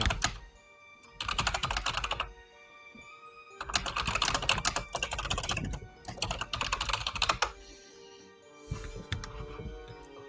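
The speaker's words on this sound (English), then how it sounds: "Sorry about the typing. I can hear that over stream now." Someone types on a computer keyboard in several close, loud bursts of rapid clacking keystrokes, separated by short pauses.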